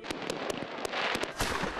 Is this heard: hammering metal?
no